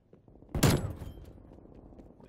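M60 machine gun firing in Black Ops Cold War, a sudden loud burst that quickly fades into a lingering rumbling tail of game ambience.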